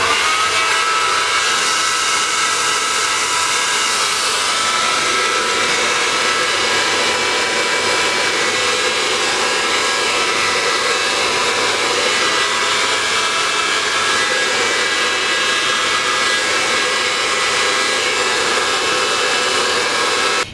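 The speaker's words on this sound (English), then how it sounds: "So now I'm gonna just hair dry my hair" A hair dryer blows hair dry for the whole stretch, a steady close-up broadband whoosh with a slight wavering texture as it moves and no talk.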